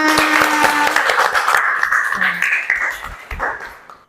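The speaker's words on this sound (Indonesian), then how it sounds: "kita beri tepuk tangan untuk kita semua" A classroom of students applauds together during an Arabic language lesson, a burst of dense clapping that thins and fades out toward the end.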